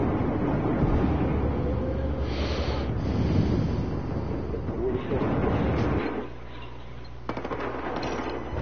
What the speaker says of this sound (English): got one with a frag